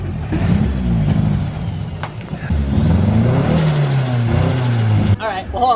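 Newly running car engine revving close by, pitch climbing and falling in uneven surges over a rough idle, loud, with voices talking over it.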